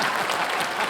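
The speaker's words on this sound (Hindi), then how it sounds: "भरत जी के लिए जोरदार तालियां" Studio audience at a comedy show bursts into loud, dense applause, a continuous roar of many hands clapping with no pauses.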